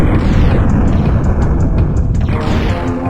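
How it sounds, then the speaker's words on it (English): An alien laser crossbow in the Turok video game hits with a small explosion: a dense, loud burst of rumble and crackle that holds for about three seconds. Faint metallic pings sit above it, and no one speaks. "It really does kind of function like a laser crossbow based on how it looks. With a little explosion at the end."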